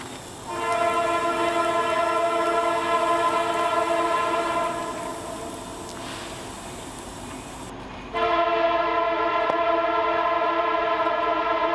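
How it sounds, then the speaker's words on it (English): A train rumbles past as its horn blares in two long, loud blasts separated by a brief pause. "Train's here."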